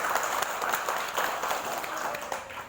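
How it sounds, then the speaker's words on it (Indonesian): Audience applause at a Golkar party consolidation gathering in Metro, Lampung, a dense steady wash of many hands clapping at moderate level, sustained without pause across the short stretch. "Tepuk tangan untuk Golkar."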